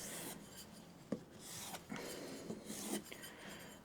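A hand plane chip-breaker is drawn across a leather strop in a series of soft, quiet rasping strokes, each a brief scraping rub with small clicks at the ends, repeating irregularly.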